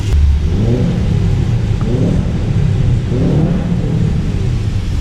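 A Subaru WRX engine revs hard inside a road tunnel in wet traffic, repeated deep booming rev swells rising and falling about once a second, loud and close with heavy tunnel reverberation.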